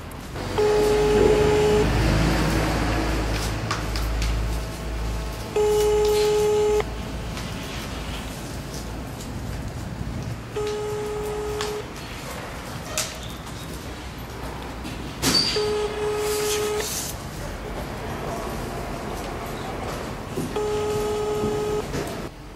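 A phone call to an organization ringing unanswered, a repeated ring tone sounding about every five seconds in a steady cycle over background noise, with no pickup.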